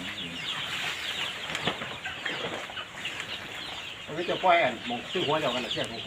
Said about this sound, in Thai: โอ้เสียงไก่